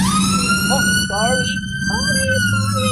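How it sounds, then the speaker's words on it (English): A wailing siren with rising and falling tones, loud and continuous, with a brief spoken word partway through. "Okay, sound of the siren has come out."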